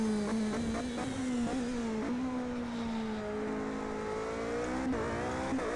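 Race car engine in the Project CARS video game, high-downforce car revving hard out of a hairpin, the steady engine note rising and falling with throttle as the driver balances it, loud and continuous throughout.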